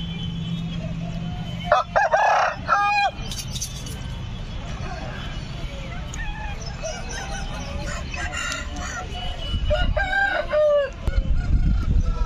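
Roosters crow repeatedly amid a busy, noisy poultry market at Nallapadu, with hens clucking and voices chattering in the background.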